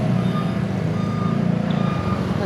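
A broken-down truck backs up on a congested road squeezed to a single lane, its reversing alarm beeping steadily and loudly over a low, rumbling idle and surrounding traffic noise.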